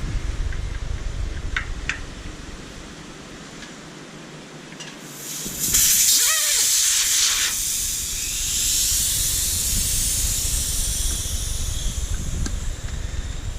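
Air hisses out of a tubeless-ready bike tire through a valve with its core removed, a steady broadband rush that grows louder midway and carries on to the end, close and with no voices.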